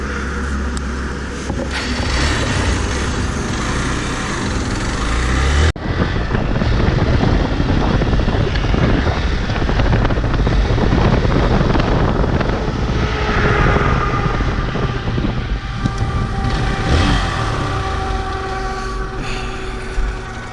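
A Hero Xpulse 200 motorcycle cruises on a highway, its engine a loud steady drone mixed with heavy wind rush, a sharp shift in tone about a quarter of the way in, then sustained riding with no talk.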